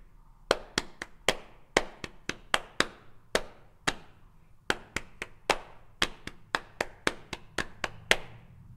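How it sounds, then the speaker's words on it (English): Hands tap out a song's rhythm on a surface during a piano lesson, sounding as about twenty-five close, sharp taps in an uneven rhythmic pattern with brief pauses between phrases, and no talking. "So to develop this, we tap the rhythm with our hands."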